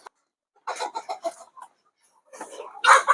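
Backyard chickens cluck in short, close bursts, a quick run of clucks followed by a pause and then louder, busier clucking near the end.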